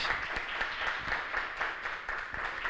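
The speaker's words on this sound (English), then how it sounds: "let's give Carlos Andrés Gómez another round of applause" Audience applause for Carlos Andrés Gómez at a book talk on identity and masculinity, a steady, moderately loud wash of many hands clapping through the whole stretch with no voices.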